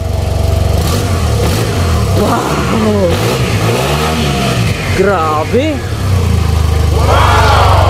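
Yamaha TMAX large flagship scooter, its engine idling in a low steady hum and then revved in several rising and falling pulls, close and loud, while excited voices exclaim over it.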